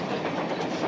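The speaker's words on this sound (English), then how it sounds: "I'll bet you're the only kid in the country that drives a train home from school." A train rumbles along with a steady, dense roar, as though heard from on board or close by, continuous and without any whistle.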